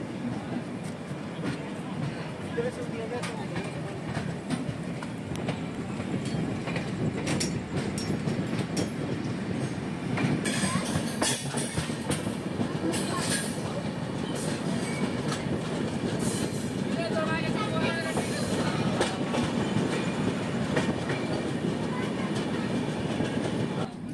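The Darjeeling Mail runs at night after leaving Kishanganj station, a loud continuous rumble of wheels on rails with rhythmic clickety-clack and occasional squeals, heard from on board and growing slightly louder as it goes.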